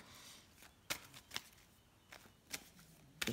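Tarot cards are laid down and slid into a spread, giving several soft, sharp card flicks and taps spaced apart over quiet background.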